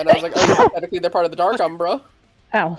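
A single sharp sneeze bursts out in the middle of a person's conversational talk, close and loud, with speech continuing before and after it.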